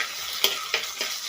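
Crushed ginger and garlic with slit green chillies sizzle in hot oil in a pan for an Indian seafood curry. A steady close hiss of frying carries on throughout, with a few light clicks of stirring and no voice.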